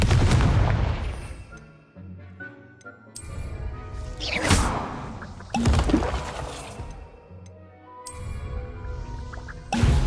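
Confringo fire-blast spells in the Hogwarts Legacy video game, a run of loud booming bursts and whooshing explosions spaced a few seconds apart, with rumbling decay between hits.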